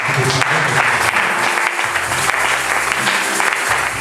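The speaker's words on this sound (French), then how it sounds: "Applaudissez pour le Seigneur." A church congregation applauds during a sermon, with steady dense clapping from a room full of people that continues throughout, while a voice speaks over it now and then.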